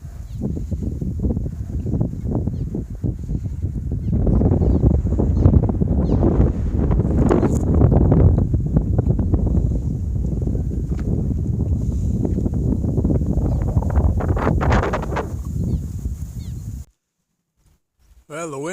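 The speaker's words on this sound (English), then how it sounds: "Well, the wind has been kicking up a bit." Wind blows across the microphone beside a California highway, a loud, buffeting rumble with gusts that runs steadily for most of the stretch before cutting out abruptly near the end.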